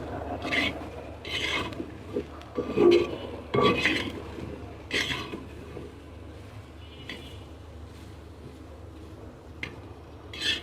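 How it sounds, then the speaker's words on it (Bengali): Peanuts dry-roasting without oil in a clay wok rattle and rasp as they are stirred, in short, close scraping bursts separated by quieter gaps, fading toward the end. "মাটির কড়াইতে এরকম করে তেল ছাড়া ভাজি করলে একটা সেন্ট হয়"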